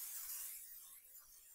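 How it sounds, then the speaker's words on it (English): Pam cooking spray hisses onto a pie plate in a home kitchen, one continuous close spray burst that fades out slightly over about a second and a half. "I prefer to spray it with Pam."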